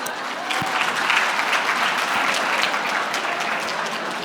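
Workplace talk audience gives itself a round of applause, a dense, loud, sustained wash of clapping from a full room that holds steady throughout.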